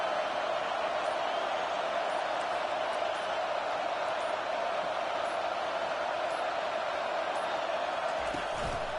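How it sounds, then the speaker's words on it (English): A football stadium crowd roars for the home defense, a dense, steady wall of noise that fills the whole stretch at constant loudness with no break. "Listen to this crowd just shaking the girders of this place, trying to help their defense."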